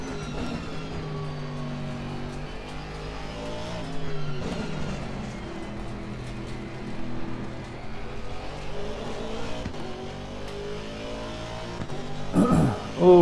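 A race car engine in Assetto Corsa Competizione drones and revs through rising and falling gear changes, with a steady in-car whine and brief harsher bursts near the end.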